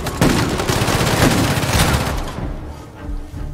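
Sniper rifle fire in the video game Uncharted 4, loud dense bursts of gunfire and impacts crowding the opening seconds before tailing off into quieter rumbling.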